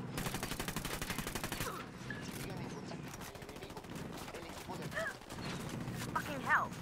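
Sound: gunfire in video game Ghost Recon Wildlands

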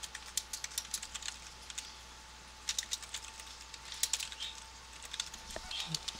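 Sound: typing on a computer keyboard

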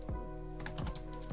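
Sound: typing a command on a computer keyboard

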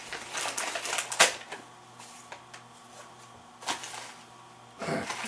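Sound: cutting tape and packaging open with scissors

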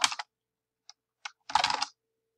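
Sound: typing on a computer keyboard

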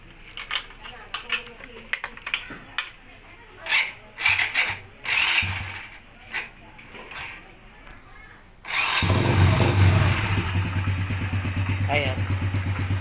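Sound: motorcycle engine starting

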